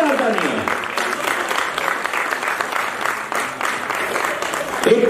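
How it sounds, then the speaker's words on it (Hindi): Loud, sustained applause from a theater festival audience during an award presentation, a dense continuous roar of clapping with faint voices underneath and a brief swell near the end. "जोरदार तालियां"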